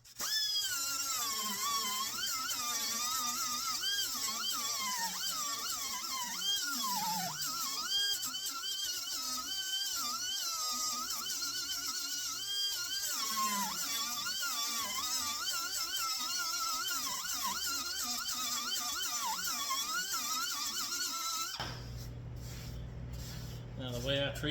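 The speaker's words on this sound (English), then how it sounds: "And then grind them down." Angle grinder working down welds on the rear bumper of a 1953 Packard, a loud, steady harsh whine with a wavering pitch that runs almost without break for over twenty seconds before cutting off.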